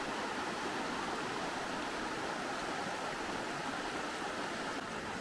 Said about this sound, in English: here we've got a view of the Whitewater River, finally